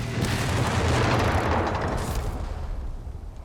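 Artillery barrage in Company of Heroes 3, a dense, continuous rumble of booms and blasts that stays loud for about two seconds before slowly thinning out, with no voices over it.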